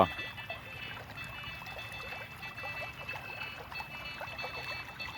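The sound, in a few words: water flowing down a drain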